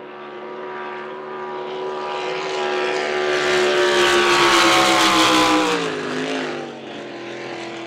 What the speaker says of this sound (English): This is a Todd Leary owned boat from Tasmania, running a 410 cubic inch sprint car motor